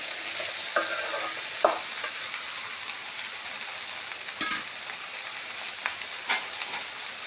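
Okra pieces cooking in a pan for sambar palya, a steady close sizzle broken by occasional spatula scrapes and taps against the pan, with no voices present.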